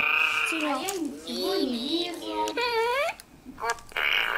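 Furby toy lets out a fart noise as its tail is pulled, a warbling electronic burst mixed with a voice and chatter, fairly close and loud.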